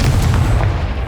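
A Confringo blasting spell in Hogwarts Legacy bursts with a loud, deep booming roar that fills the moment, heavy in the low end and fading slightly toward the end.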